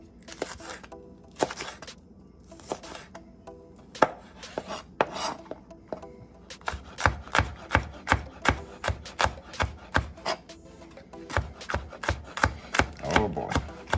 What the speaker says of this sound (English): So for the peppers, just gonna cut them